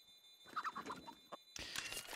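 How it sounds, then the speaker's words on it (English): A chicken in CS:GO clucks in a few short bursts, followed by a denser flurry of noisy sound, fairly faint and with no talk. "you got a chicken near you, it's just going to be making so much noise"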